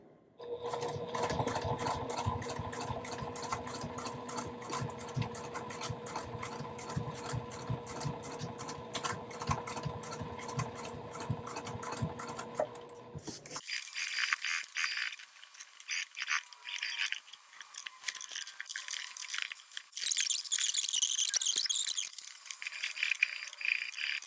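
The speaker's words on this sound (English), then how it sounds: "this is where I like to back stitch a couple of times, or stitch forward and backwards a couple of times" A sewing machine back-stitches the tabs of a hip bag, running in a steady rapid rhythm for about thirteen seconds before stopping, followed by lighter handling and clicking noises at close range.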